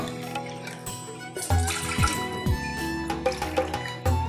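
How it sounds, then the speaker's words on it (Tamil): Water poured from a tumbler into a cooking vessel to dissolve jaggery, with close splashes, trickles and drips in uneven bursts and clinks of metal. "ரெண்டு டம்ளர் தண்ணி சேர்த்திங்க"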